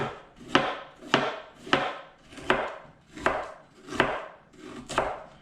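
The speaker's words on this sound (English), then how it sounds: "I just go, start slicing the pears up" A knife slices firm pears in steady, evenly spaced strokes, about seven crisp cuts, close and clear with no talking.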